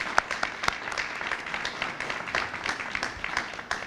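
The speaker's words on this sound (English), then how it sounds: "So just give everyone a round of applause for being here today." A modest audience at a showcase of coding students' finished products claps for visitors, a loose patter of individual hand claps with occasional sharper slaps, moderately close and steady throughout.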